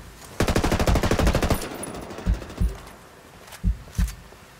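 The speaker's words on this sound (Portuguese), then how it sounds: "Estão atirando em mim!" Rapid automatic gunfire bursts loudly in a fast rattling volley, then a few slower, separate shots follow at a steady distance, with no talking over them.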